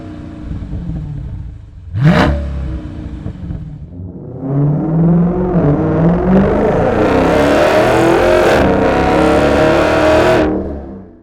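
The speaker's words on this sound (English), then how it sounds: "If you're looking for that deep signature MagnaFlow tone, but still want to have good street manners" A 2017-2021 Dodge Challenger fitted with a MagnaFlow xMOD series exhaust using 5-inch-body, 3-inch-core straight-through mufflers revs up: one sharp blip, then a long, loud, deep rising rev that holds before cutting off, with no talk.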